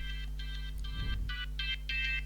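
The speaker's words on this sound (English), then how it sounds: "Who's that? It's a phone call." Electronic phone ringtone sounds an incoming call in repeated bright warbling bursts with short gaps, steady and fairly clear over a low hum.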